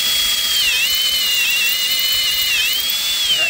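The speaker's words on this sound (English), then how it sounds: "she definitely did drill through the bolt" A high-pitched power drill whines continuously, its pitch dipping briefly twice as the bit bites into a metal bolt broken deep in its hole.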